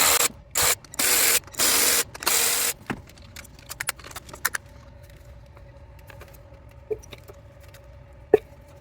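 A ratchet works on 8 mm bolts on a Chevy Trailblazer, opening with several loud bursts of rapid ratcheting, then trailing off into scattered metallic clicks and taps.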